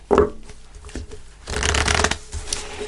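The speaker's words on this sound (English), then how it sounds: "let's pull an angel answer card" A deck of tarot-style angel answer cards shuffled by hand close up: a quick riffle burst at the start, a few soft taps, then a longer rustling shuffle, with no talking.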